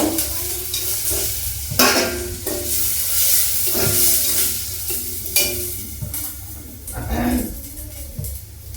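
Curry leaves and tomato fry for carrot palya with a loud, steady sizzle, while a spoon scrapes the pan in repeated strokes and a voice talks over it.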